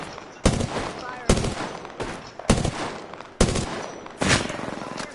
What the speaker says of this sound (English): Oh, getting sniped at.